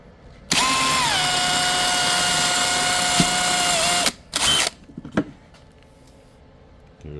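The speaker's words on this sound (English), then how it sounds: "I drill a hole" A power drill bores a hole through the edge of a Nagy 10-inch Harley adapter ring, giving one loud, steady whine for about three and a half seconds. A couple of short follow-up bursts come after it, then quiet.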